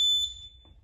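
A workout timer alarm gives a single sharp, high-pitched electronic beep that fades quickly, followed by quiet.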